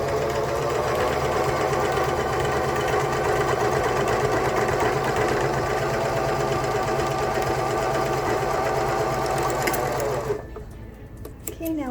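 A serger sewing machine stitches the lining of a cloth face mask, a fast loud steady mechanical whir running about ten seconds, then stopping abruptly into quieter handling sounds.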